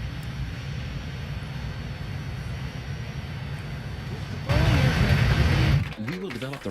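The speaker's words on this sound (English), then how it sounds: "Let's fly for a while with this plane." A propeller airplane flies in the Transport Fever video game, its engine a steady broad drone that swells louder near the end before other game sounds cut in.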